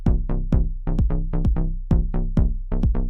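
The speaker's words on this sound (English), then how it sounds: "the previous rhythm with a phase of 1 would look and sound like this." A Euclidean 7/16 rhythm played with a phase of 1 sounds as a quick looping pattern of bright, pitched percussive hits with sharp attacks and fast decays, evenly loud and close, with uneven spacing between strikes and no talking.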